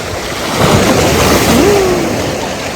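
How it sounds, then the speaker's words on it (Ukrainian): Small waves on a calm, clear Turkish sea lap against stones at the shore, a steady close wash of water with wind noise on the microphone and a faint tonal sound in the background. "Під камінь під камінь трошки б'є хвилька"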